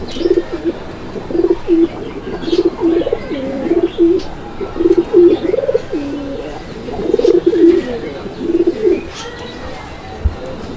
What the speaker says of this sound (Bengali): এই জোড়াটাও কিন্তু একদম ভরপুর ডাকের কবুতর